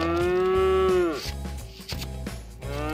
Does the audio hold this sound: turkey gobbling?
no